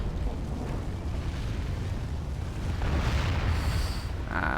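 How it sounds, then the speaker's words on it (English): Catapults fire and their shots land in the strategy game Third Age: Divide & Conquer, a dense rumble of booming impacts that surges louder toward the end, with bright crackling bursts near the close. "8 catapults. Loading. Preparing to fire."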